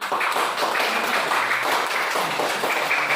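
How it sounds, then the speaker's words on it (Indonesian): Children applauding together in a classroom, a dense, steady patter of many small hands clapping close by for the whole stretch, with no talk over it. "kasih tepuk tangan dulu anak-anak"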